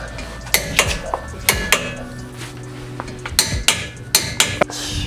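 A torque wrench tightens the front wheel lug nuts of a Mitsubishi Evo 9 to 86 foot-pounds, giving sharp metallic clicks and clanks in uneven bursts, close and fairly loud, with no talking.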